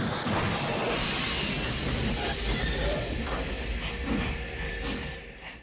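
A train rolls along the tracks nearby, wheels squealing and rumbling loudly, the noise easing slightly toward the end.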